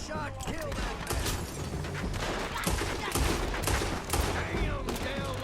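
Gunfire in the Western game Red Dead Redemption 2, a loud, rapid stream of overlapping shots and cracks with chaotic fight noise, close and sustained, with voices shouting over it.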